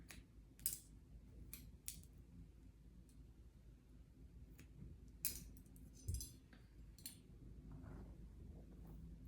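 Scissors snipping through layered hair during a haircut, several short crisp cuts spaced irregularly against a low steady room hum, close and fairly quiet.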